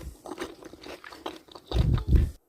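Close crunchy bites and chewing of a crisp homemade snack, starting softly and then two loud, sharp crunching bursts near the end before it stops abruptly.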